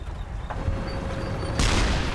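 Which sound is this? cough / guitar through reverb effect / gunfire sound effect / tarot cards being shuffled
gunfire sound effect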